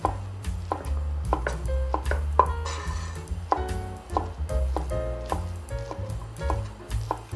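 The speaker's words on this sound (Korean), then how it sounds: "어묵을 반으로 자른 후에 게름게름하게 썰어주세요." A knife slicing fish cake on a cutting board for stir-fried fish cake, a series of crisp, irregular chops close up, some quick and clustered, others spaced apart, with no talking.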